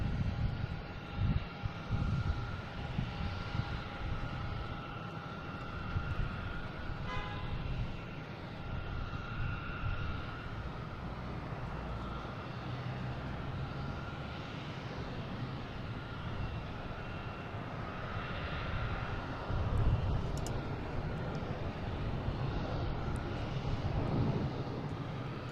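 An American Airlines Airbus A321 from Dallas/Fort Worth at Boston Logan International Airport gives a soft, continuous jet roar heard from a distance, rising slightly now and then, with light wind noise and no voices.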